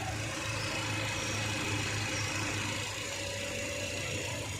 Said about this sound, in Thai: ผมสตาร์ทเครื่องเปิดแอร์อยู่นะครับเดี๋ยวเรามาฟังเสียงเครื่องกันนะครับ